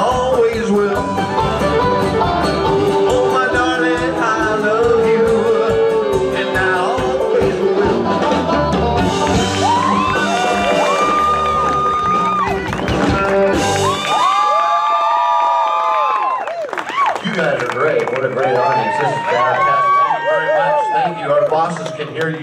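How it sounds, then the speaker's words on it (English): Audience at a live country-style music show cheering, whooping and shouting, loud and sustained over a band and singing, with a brief lull as the music stops before the crowd noise swells again. "Hear you screaming for us."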